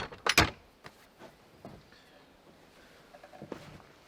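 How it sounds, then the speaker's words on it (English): A wooden cabin door swings shut with one loud thud and rattle near the start, followed by quieter scattered knocks and bumps around the cabin. "close the door."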